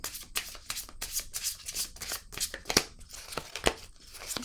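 Tarot cards are shuffled and handled during a Scorpio reading, giving a close series of quick papery riffles, slides and taps with a few sharper flicks, with no talking.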